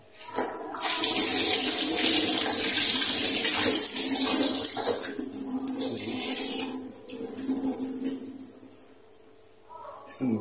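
Tap water gushing steadily into a sink while a chicken is washed, loud and close, with splashing shifts partway through before the flow stops near the end.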